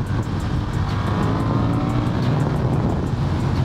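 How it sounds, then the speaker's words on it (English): A Honda CB750 Hornet motorcycle engine drones loud and steady from up close during a test ride, a continuous low rumble under constant wind noise with no talking. "My first impressions of this engine is that it's a really fun and torquey engine."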